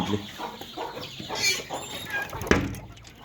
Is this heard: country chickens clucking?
yes